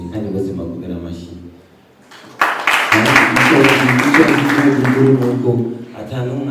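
A burst of audience applause for the top ten singers in a music chart countdown swells for about three seconds, then fades back under the presenter's continuous talking.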